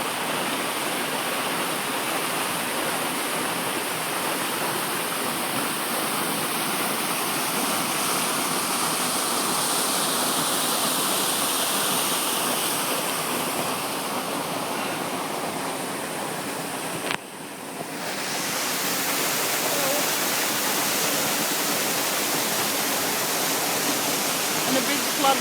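Silverband Falls pours into a gorge with a loud, steady broadband roar of falling water, unbroken except for a brief dip near the end.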